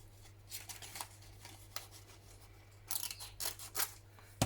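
Scissors snip through paper while trimming a handmade collage pad, a run of soft, close crisp cuts and rustles with a louder snip at the end, no talking.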